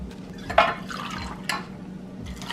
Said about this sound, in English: I like using 2 ounces of vodka.